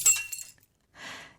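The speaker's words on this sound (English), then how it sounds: "Somehow I know there's a glass of water on the table, so I reach over, but it slips out of my hand." A glass of water slips and hits the floor, shattering in a bright crash that quickly fades, followed after a short silence by a soft rustling hiss.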